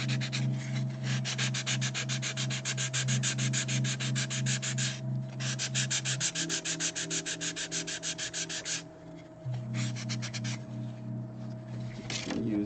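Sandpaper rubs back and forth across wood while building a temple gate, a loud, close rhythm of rapid scratchy strokes running in bursts with brief pauses, over a steady low machine hum.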